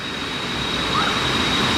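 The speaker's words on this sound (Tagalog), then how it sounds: "Ano pa ng tubig, ang lakas." Strong rushing water from a fast river or cascade on an off-road trail ride in Laguna and Quezon, a steady loud broadband roar filling the whole clip up close with no pauses.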